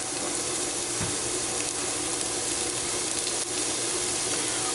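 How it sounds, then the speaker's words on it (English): Vegetables sauté in hot oil in a pot for chicken and dumplings, giving a steady, dense sizzle that holds at an even level throughout with a faint clink or two of stirring. "We're going to let that go and just let that saute."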